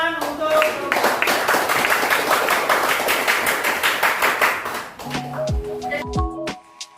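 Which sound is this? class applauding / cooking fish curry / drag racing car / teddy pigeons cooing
class applauding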